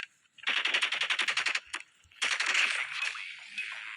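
Automatic gunfire from a video game shooter, a rapid burst of about a dozen sharp evenly spaced shots, a lone crack, then a longer sustained stretch of fire that tapers off, loud and close with no talk.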